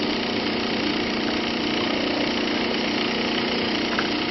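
A rotary inverter driving an AC motor at 1800 RPM, set up with solid-state relays, gives a steady, continuous mechanical hum with a constant pitch, running alone and unchanging throughout.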